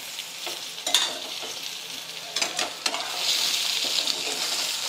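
Hot oil tempering for jowar kadabu crackles and hisses in a pan, steady sizzling with a few sharp pops and stirring scrapes, close and fairly loud, with no voices.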